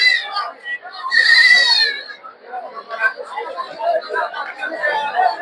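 Goats bleat at the Putia Bazar goat market in Narsingdi, one loud nearby bleat rising above busy crowd chatter and people talking.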